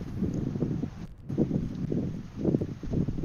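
Low, gusty buffeting roar of an electric fan blowing across a microphone, rising and falling irregularly with a brief drop-out partway through.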